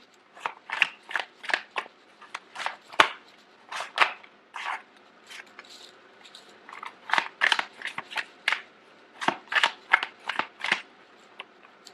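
Tarot cards are shuffled and drawn by hand, giving a close run of crisp riffling snaps and papery flicks in quick bursts, with short pauses between flurries and no talking.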